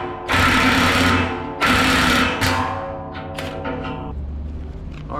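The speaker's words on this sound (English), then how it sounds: "And then we'll get the impact on it." An impact wrench on a blade tooth bolt of an earthmoving machine's cutting edge, sounding as two loud rattling hammering bursts followed by a shorter one, then easing into a steady mechanical hum and clatter.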